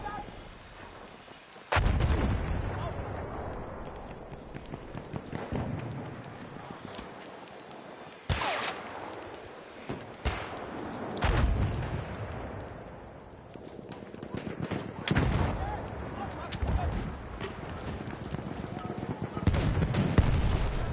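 Artillery fire in the video game Battlefield 1: heavy booming blasts and sharp shots at irregular intervals over a rumbling battlefield, some loud and close, with faint voices calling out between impacts.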